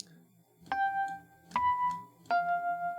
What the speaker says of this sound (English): This is a sort of old school electric piano.